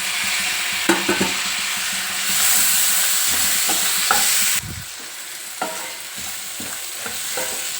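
Cut tomato pieces with salt and chili powder frying in a pan for a bitter gourd curry, giving a loud continuous sizzle and hiss with a few stirring scrapes, close up.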